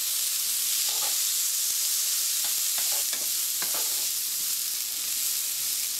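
Asparagus sautéing with garlic in a pan, a loud steady sizzle and hiss throughout, broken by a few soft scraping stirs, close up with no talking.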